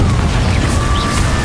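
A Confringo explosive spell blast from Hogwarts Legacy erupts as a loud, dense roar of fiery noise that fills the whole moment, steady and close with a faint whistling tone running through it.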